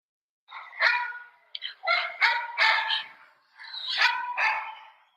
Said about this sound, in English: That dog just loves Chloe